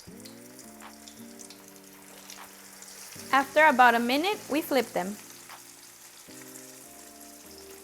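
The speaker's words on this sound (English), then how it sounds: "I'm gonna start frying them." Potato tacos deep fry in hot oil with a steady crackling sizzle, while someone talks over it and soft background music plays.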